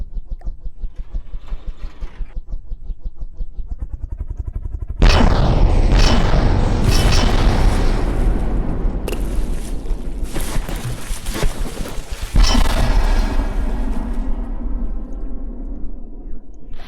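Heavy ship-mounted artillery in the naval combat game From the Depths fires in repeated loud booms with rumbling tails, a few big blasts and smaller shots spread over several seconds, after a quieter engine-like drone.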